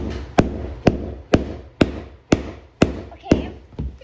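Mallet hammering floating floor boards into place, eight sharp, evenly spaced whacks about half a second apart, loud and close.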